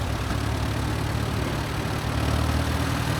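Vintage W9 tractor running on petrol paraffin, idling during a tractor parade at the Great Dorset Steam Fair, a steady, rough low engine rumble heard close, with a broad noisy wash over it.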